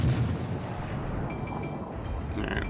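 Naval artillery fire in World of Warships Legends, a dense rumbling barrage of heavy booms rolling continuously, loud and close with a low roar throughout.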